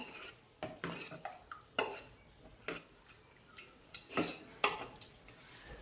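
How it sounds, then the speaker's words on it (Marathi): A spoon stirs spinach curry in a pot with irregular metallic clinks and scrapes, light taps spaced unevenly, close by and fairly quiet. "ते याच्यामध्ये टाकून घ्यायचं आणि सर्व एकत्र मिक्स करायचं"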